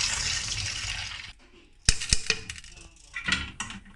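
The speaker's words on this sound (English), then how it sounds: "wash the green gram thoroughly" Green gram is rinsed under running water in a kitchen, with a gush of water followed by quieter gaps and then sharp clinks and rattles of the grains and vessel being handled up close.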